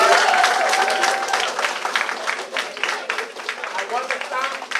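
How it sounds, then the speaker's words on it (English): Children's group at a boys' school prize-giving receives a burst of audience clapping, loud and fairly dense at first and then thinning into scattered claps, while a voice talks over it. "Give them a group a round of applause, please."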